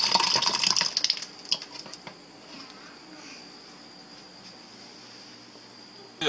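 Water bursts from a reverse osmosis purifier line, a loud gushing spurt in the first second or two with sputtering pulses, then settles into a faint steady trickle and hiss.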